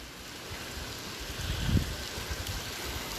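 A big waterfall at night in Gatlinburg makes a steady broadband rush that sounds like rain or a stream, heard at moderate distance with a slight swell partway through.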